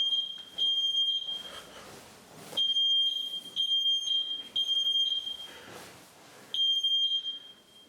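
A Sensereo MS-1 interlinked smoke alarm runs its test, sounding repeated shrill high-pitched beeps in an irregular on-off pattern amid faint room noise.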